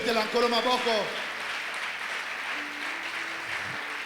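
A church congregation breaks into applause in praise of the Lord: a steady patter of clapping spreads through the room after a voice speaks at the start, and a faint tone hums underneath.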